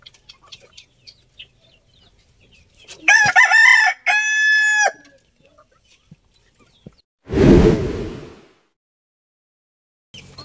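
A rooster crows twice in quick succession, loud and close with ringing harmonic calls, followed by a short broadband burst; quiet pauses fall between.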